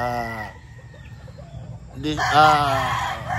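A gamecock crows loudly and close, one long strained call at the start and a second drawn-out crow after a brief quiet gap, with faint clucking between.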